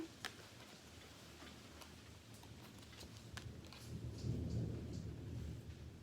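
A distant thunderstorm rumbles low and faint, with soft rain and scattered ticking sounds; the rumble swells briefly toward the end.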